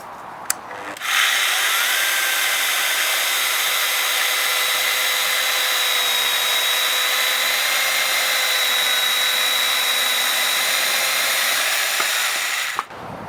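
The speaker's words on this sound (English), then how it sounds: "So now when the chain hits the timber, it will gradually cut its way in." Festool sword saw with its chain biting into timber, a steady, loud high-pitched motor whine with a cutting rasp that runs unbroken for about twelve seconds before stopping abruptly.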